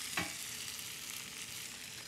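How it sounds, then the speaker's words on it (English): Onions hiss and sizzle in a hot frying pan as they are added back, a brief scrape followed by a steady, close frying crackle. "I'm gonna add the onions back to the pan."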